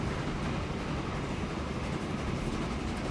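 A train rolls along rails in the Transport Fever video game, a steady, loud low rumble with a faint wheel clatter that holds without a break throughout.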